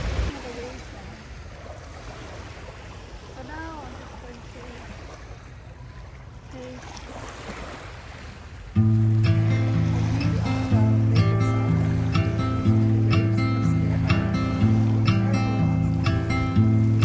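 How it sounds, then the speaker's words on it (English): Waves on Lake Ontario wash onto Woodbine Beach in Toronto, a steady rolling surf blended with wind gusts; about halfway through, loud music starts and largely buries the water. "There's nothing I like better than to just to listen to the waves."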